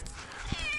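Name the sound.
cat meowing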